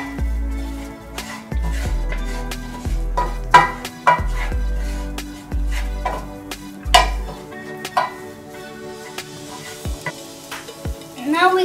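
Egg bhurji with garam masala is stirred in a pan with a spatula, giving repeated scraping strokes and clinks over a steady low sizzle, close and fairly loud, with no talking.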